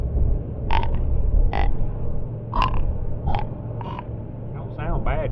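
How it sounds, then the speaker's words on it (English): A deer grunt call is blown in several short, reedy bursts spaced about a second apart, loud and close over steady rumbling background noise. "this grunt call was in there, so I picked one up."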